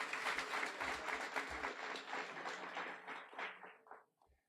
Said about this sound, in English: A round of applause for both of them.